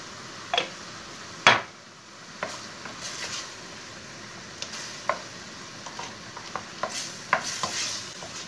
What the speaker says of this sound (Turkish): Şimdi mantarları biraz kavurayım.